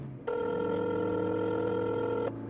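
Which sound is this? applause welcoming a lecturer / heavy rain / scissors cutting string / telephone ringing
telephone ringing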